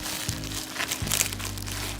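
Bubble wrap packaging is handled up close, with short crinkling and rustling plastic sounds over a steady background hum.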